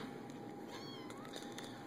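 Playful house cats give a faint, short meow partway through, set against a quiet, steady background with no talking.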